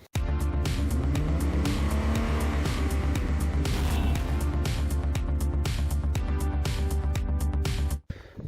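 A Honda GX340 go-kart engine runs at a steady, loud idle with a buzzing harmonic drone and a regular pulsing beat, then cuts off abruptly near the end.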